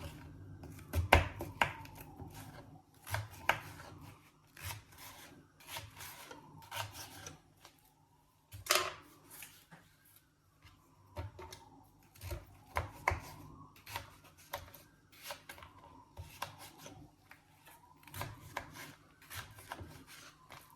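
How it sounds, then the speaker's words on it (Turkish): Quiet, irregular knife taps and scraping on a cutting board as peppers are chopped repeat steadily, with soft rubbing sounds in between, close by and fairly faint. "Şimdi de biberlerimi doğruyorum."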